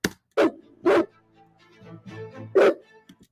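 A dog barks three times close by, two quick barks followed after a pause by a third, with softer whimpering sounds in between.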